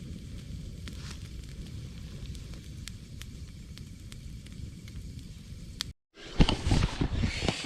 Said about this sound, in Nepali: आगो नि बलिरहेको छ